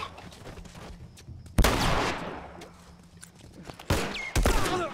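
Gunfire in The Last of Us Remastered: two loud, sharp shots about two seconds apart, a third burst near the end, each with a ringing tail over a low game ambience.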